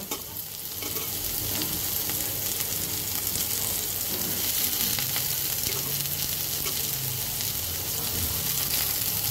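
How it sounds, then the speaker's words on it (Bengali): Water lily stems (shapla), salted beforehand and releasing water, sizzle steadily in a frying pan with occasional stirring, a soft, even crackle heard close up with no voices. "শাপলা খুব বেশি ভাজার দরকার নেই, মিনিমাম 2-3 মিনিট ভাজলেই শাপলাটা নরম হয়ে যায়"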